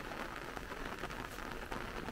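Steady rain falling outdoors, a dense, even patter of drops on surfaces that stays constant and fairly quiet throughout, with no voices.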